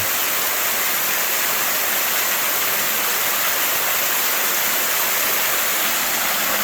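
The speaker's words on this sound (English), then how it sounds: "Come up all these beautiful waterfalls through here" A steady, full roar of rushing water from a waterfall pouring into a creek on the Ozark Highlands Trail, constant and close with no breaks.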